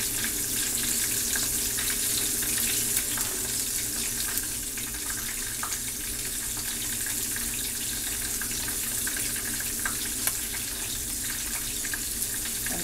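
Floured chicken fried steak frying in a pan of oil, with a loud, continuous crackling sizzle and scattered pops throughout, steady and close, no voices heard.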